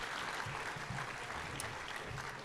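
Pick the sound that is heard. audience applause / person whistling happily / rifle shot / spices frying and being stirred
audience applause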